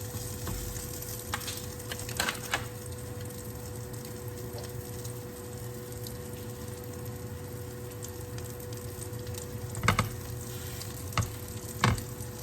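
Cornmeal-coated salmon croquettes fry in a pan with a steady soft sizzle and a few sharp clinks of a utensil against the pan.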